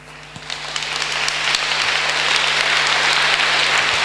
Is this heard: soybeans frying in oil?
no